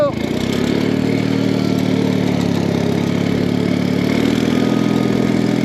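Wheel Horse 417A box tractor engine running steadily, a loud, close, even mid-pitched drone with faint clatter throughout, while a person speaks over it.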